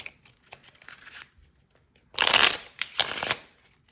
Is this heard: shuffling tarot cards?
yes